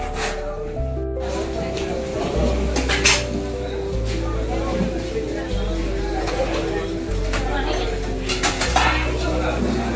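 Dishes and cutlery clink and scrape steadily during a rice-and-dal lunch at a hotel, moderately close, with people talking over the sounds throughout.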